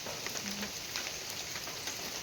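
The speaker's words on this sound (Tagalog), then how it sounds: "ang lakas ng ulan" Heavy rain pours steadily on a hillside avocado-picking spot in the rural Philippines, a dense, even hiss of drops drumming close by, with no voices.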